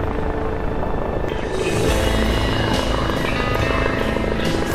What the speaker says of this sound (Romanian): A venit elicopterul